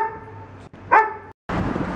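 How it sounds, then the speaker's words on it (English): A dog gives one sharp bark against a quiet indoor background, with a steady low hum before it and a burst of broadband noise after. "he's actually got the dog barking here"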